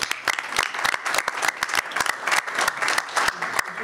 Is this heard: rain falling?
no